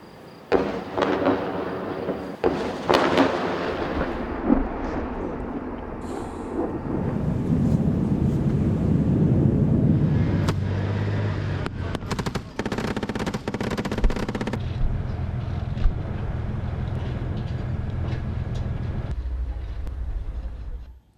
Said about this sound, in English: Heavy bombardment by Israel continues.